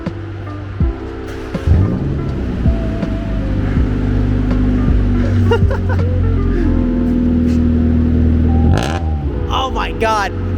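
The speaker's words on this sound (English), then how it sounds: "First start up on the hoopty with the new exhaust." A Ford Mustang engine with a new exhaust cranks and fires up, then idles with a loud, raspy exhaust rumble before revving again near the end.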